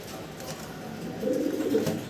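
German Beauty Homer pigeons coo close by, low burbling calls that swell louder in the second half over faint background hiss, with no talking.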